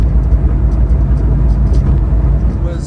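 A car engine that is not a four-cylinder runs with the hood open, a loud, close, low rumbling idle with a steady pulsing throb under brief voices.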